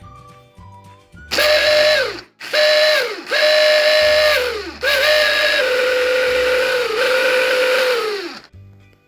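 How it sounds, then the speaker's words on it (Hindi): A small electric grinder minces beef with onions and green chillies: a loud, whining motor runs in four bursts, the last and longest about four seconds, with short pauses between. "अब जो मैंने प्याज और सब्ज़ मिर्चें डाल दी हैं, अब इनको मैं ग्राइंड कर लूँगी।"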